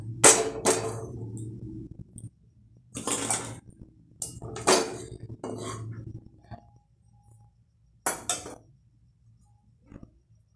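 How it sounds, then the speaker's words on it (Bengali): A wok (kadai) is set down on a gas stove, giving several short metallic clanks and clatters spread through a quiet kitchen, close and fairly loud, with a low steady hum underneath. "আমি কড়াই বসিয়ে দিলাম।"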